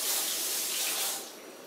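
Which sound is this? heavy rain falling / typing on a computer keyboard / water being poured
water being poured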